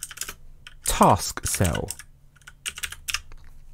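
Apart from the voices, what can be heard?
typing a command on a computer keyboard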